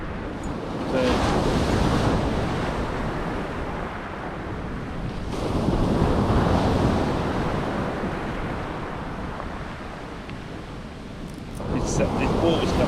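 Sea waves surging in on the shore at Withernsea on the Holderness coast, a continuous broadband wash with rising and falling swells, heavy wind buffeting the microphone, and faint talk underneath.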